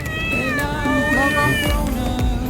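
A cat meows at a Buddhist temple, giving several close, loud, drawn-out cries with wavering pitch, one after another, while faint handling noises sound in the background.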